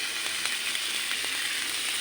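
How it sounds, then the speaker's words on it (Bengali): Chopped vegetables frying in a pan for a Bengali fish curry make a steady, close, bright sizzling hiss with faint crackles and no talking. "সবজি দিয়ে এগুলো একটু ভালো করে ভাজবো।"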